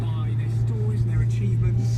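The turbocharged engine of a Mitsubishi Evo VI Tommi Makinen Edition rumbles in a steady, loud, deep tone, running briefly close by.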